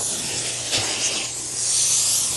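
A carpet cleaner sucks water and leftover soap from a couch, giving a loud, steady, airy hiss of extraction with slight surges as the nozzle moves.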